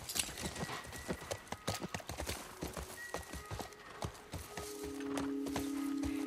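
Horse hooves clop at a steady walking rhythm in The Last of Us video game, close and continuous, with a faint tonal hum rising toward the end.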